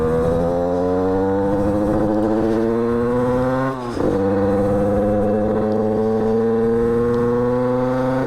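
A 50cc moped with an AM6 engine idles loud and close with a steady buzzing drone, dips briefly near the middle and then keeps running with a slowly rising pitch.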